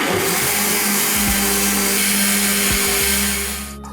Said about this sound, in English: cover it and blend